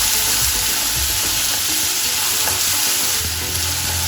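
Spices hit hot oil with softened onions for palak paneer, giving a loud, steady sizzle that runs unbroken throughout with faint stirring beneath.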